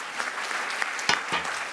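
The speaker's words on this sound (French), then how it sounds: "mais on peut vous applaudir" Brief applause from an audience at a scientific conference session on air and health, a steady patter of clapping lasting under two seconds with a couple of louder claps near the end.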